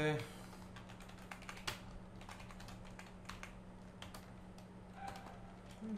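Close, quiet typing on a computer keyboard while writing code, a steady patter of light key clicks over a low background hum, with no talk.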